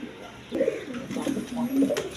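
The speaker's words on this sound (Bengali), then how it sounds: "এখানে এক পেয়ার টিউলিপ কবুতর আছে" A pair of tulip pigeons in a breeder's cage coo softly in low, repeated rounds, with someone talking nearby over them.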